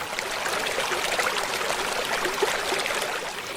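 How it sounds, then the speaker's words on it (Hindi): Swift water of the rising Mahananda river near Kamruddin village, Katihar, eroding its banks, makes a continuous, even gurgling rush, moderately quiet and free of voices. "यह महानंदा नदी बड़ी तेजी के साथ कटाव कर रही है।"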